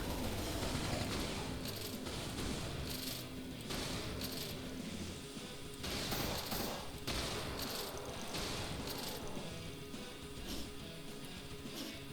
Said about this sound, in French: Quelqu'un nous tire dessus.